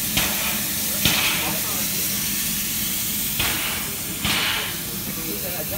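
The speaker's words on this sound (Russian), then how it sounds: "Пар со всех сторон вырывается." Loud, continuous steam hissing from a steam locomotive fills the clip, with a few sharper bursts of venting and faint metallic clanks underneath.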